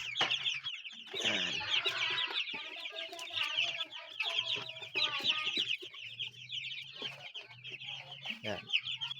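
Farm chickens around 45 days old cluck and chatter continuously close by, overlapping calls with a low steady hum in the background, no speech.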